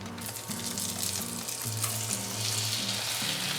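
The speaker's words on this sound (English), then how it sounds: "You can hear it sizzle." Cornbread batter made with buttermilk sizzles steadily in a hot pan of browning butter, a continuous loud frying hiss with no talking over it.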